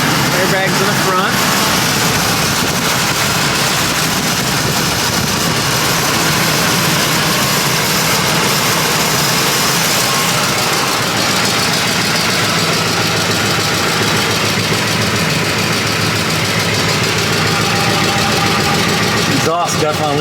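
A Lincoln Navigator SUV with an exhaust leak idles close by, a steady, rough, broadband engine rumble running continuously for twenty seconds with a slightly uneven texture and no pauses.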